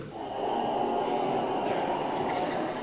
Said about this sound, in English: the trombones, they're a bigger mouthpiece and it starts to sound a little deeper.